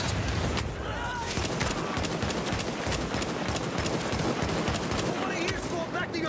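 Video game machine gun firing in long continuous bursts of rapid, sharp cracks, loud and close, with voices talking over the gunfire.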